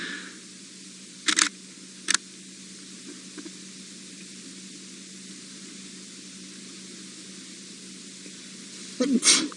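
A sharp sneeze bursts out over a steady hiss of background noise, followed by a brief second one and another burst near the end.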